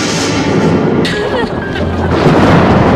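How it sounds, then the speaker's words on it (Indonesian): Thunder in a snowy storm, a loud, close, sustained rumbling roar lasting a few seconds with a sharp crack partway through, set under dramatic background music. "Tiba-tiba terdengar guntur dan terlihat kilat."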